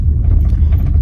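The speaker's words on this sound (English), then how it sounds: "Now we're driving all the way back to Mdatsana" Car driving on a road to Mdatsana, heard from inside as a loud, steady low rumble of engine and tyres that holds constant throughout the second without a voice over it.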